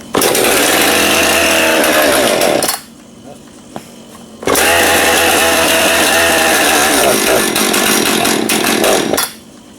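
A chainsaw that has sat unused for a long time is started with the choke off and runs loud for several seconds, cuts out briefly, then roars back at full throttle before stopping again.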